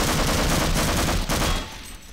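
Loud rapid gunfire in Half-Life as enemies are shot down during a station skirmish, dense overlapping bursts for about a second and a half, then cutting off to quieter background.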